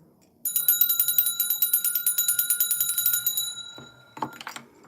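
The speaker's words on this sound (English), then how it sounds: "The bell has rung." A small bell is rung in a rapid, steady trill of bright metallic strikes for about three seconds, then stops; a few soft handling knocks follow. No one speaks.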